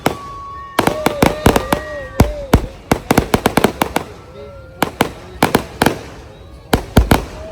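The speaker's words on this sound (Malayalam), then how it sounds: "ഗൈസ് എന്തായാലും വെടിക്കെട്ട് സ്റ്റാർട്ടായിട്ടുണ്ട്." Fireworks at a Thaipusam festival: rapid, loud cracking bursts fire in irregular clusters close by, with whistling tones rising and falling between the bangs.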